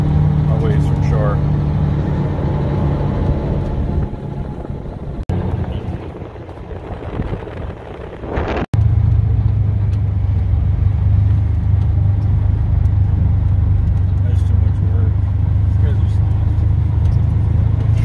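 A vehicle drives far out across a frozen lake on early-season ice, a steady loud low engine and road rumble throughout, briefly dipping midway before resuming strongly.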